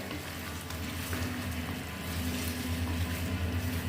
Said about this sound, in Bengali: আলুটা আমি দিয়ে দিলাম।